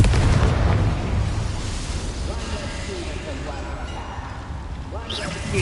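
A Confringo blast spell in Hogwarts Legacy erupts as a loud booming burst near the start, followed by rumbling debris and crackling battle noise under ongoing talk and voices.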